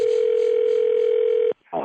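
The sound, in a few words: telephone dial tone of a prank phone call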